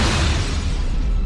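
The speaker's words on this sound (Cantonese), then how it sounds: "爆炸導致傷者死亡，而你何永森同游邦潮亦都受咗傷。" A fire-fighting film trailer explosion set during an industrial building blaze delivers one loud, deep, sustained boom with a heavy low rumble.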